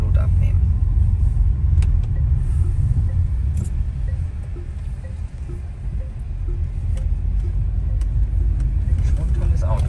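Steady low engine and road rumble heard from inside a moving car, continuous and fairly loud throughout with faint scattered clicks on top.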